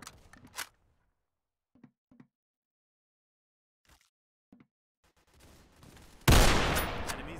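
Gunfire in the tactical shooter Unit: Classified: a few faint, scattered pops and thuds, then a loud, close burst of rapid shots that keeps going to the end.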